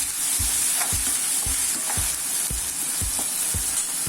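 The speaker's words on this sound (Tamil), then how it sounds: "இப்போ மீதி இருக்கிற தக்காளி போட்டுக்கலாம். இது ஒரு 2 நிமிஷம் வதங்கி வரட்டும்." Tomatoes sauté in a pan for vatha kuzhambu, a loud steady sizzle punctuated by regular spatula strokes about twice a second, close up and with no talking.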